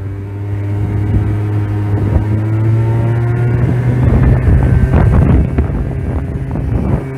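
A 2019 Aprilia SR 50 Motard scooter, not yet run in, accelerates from about 10 to 30 with a steady engine drone that rises gradually in pitch, heard close against loud wind buffeting on the microphone.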